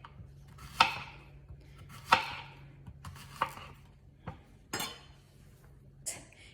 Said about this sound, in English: So you're gonna wanna cut up your zucchini, not too thin, not too thick.